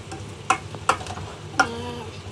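Food sizzles softly in a pot as a utensil scrapes and knocks against the sides three times, close by.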